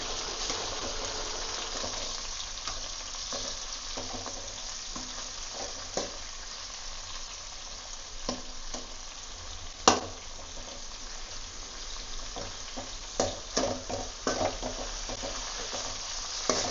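Chopped tomatoes sauteing with softened onions in a pan for a bottle gourd spicy gravy, a steady close sizzle and crackle with occasional scraping stir clicks, no talking.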